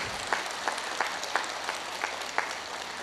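A crowd attending a meditation talk keeps up brisk, even applause, many hands merging into a continuous patter with distinct sharp claps popping out in a roughly steady rhythm, with no speech.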